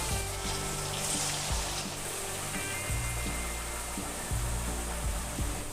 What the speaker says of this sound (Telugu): స్టవ్ పైన డీప్ ఫ్రైకి ఆయిల్ వేడైంది. ఇప్పుడు అప్పాలు ఒక్కొక్కటిగా వేసుకుందాము.